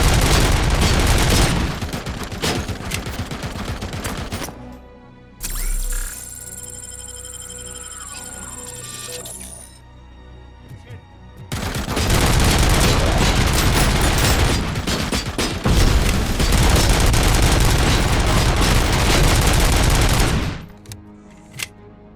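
Heavy automatic gunfire in Robocop: Rogue City, two long sustained loud bursts of rapid shots separated by a quieter mechanical interlude, ending abruptly.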